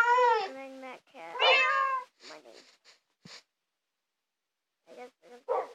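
Cats in the Minecraft video game let out several short, bright meows in clusters, separated by silent gaps.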